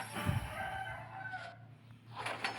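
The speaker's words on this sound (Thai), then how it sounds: "เสียงไก่ก็ขันระงมเลยครับผม" A rooster crows in the background over a steady low hum, with a second distant crow following, somewhat faint and no speech over it.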